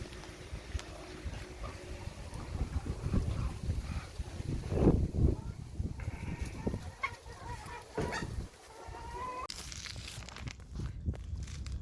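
Farm chickens clucking and pecking while eating near a kangal dog, with scattered soft clucks, scratching and shuffling footsteps close by, plus brief louder rustles and no speech.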